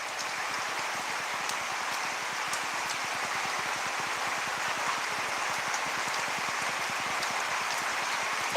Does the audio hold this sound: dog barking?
no